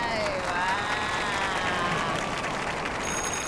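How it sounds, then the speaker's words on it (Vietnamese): A studio audience on a Vietnamese talent game show claps steadily in a busy, continuous burst, with music and voices running underneath. "Vỗ tay quý vị ơi."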